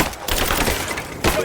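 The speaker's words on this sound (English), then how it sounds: "suppressing fire! Now!" Suppressing gunfire in the video game Rise of the Tomb Raider, a dense rattle of rapid shots that fills the short moment at steady volume, ending in a louder burst.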